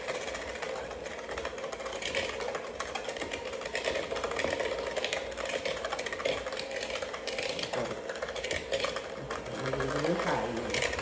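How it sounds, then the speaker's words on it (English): A handheld KitchenAid mixer runs at slow speed while creaming cookie cake batter, giving a steady, busy mechanical whir throughout with someone talking over it. "this is just a regular handheld KitchenAid mixer. That's all we're using. And we're starting off slow with this."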